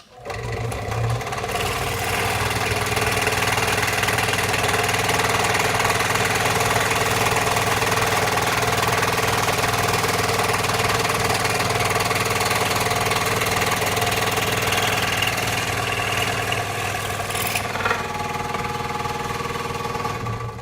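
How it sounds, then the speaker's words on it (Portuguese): A benchtop jigsaw cuts wood for a small stool, running as a loud, steady motor buzz with rapid blade chatter for about twenty seconds before winding down at the end. "Então no caso aqui eu vou estar utilizando a tico-tico de bancada."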